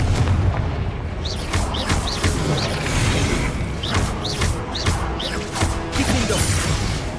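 Confringo blasting spells burst repeatedly in the Hogwarts Legacy game, a string of sharp booms and crashing impacts over a dense, noisy battle background.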